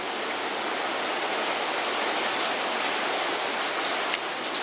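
Heavy rain pours steadily outdoors during a 25-year rain event, a dense, constant hiss of falling water that stays even and loud throughout with no voices.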